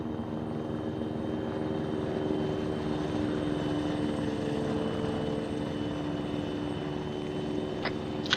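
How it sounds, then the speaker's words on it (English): A helicopter in the Arma 3 military game drones steadily with a constant rotor hum, moderately loud and unbroken, with a couple of faint clicks near the end. "Helo's coming back"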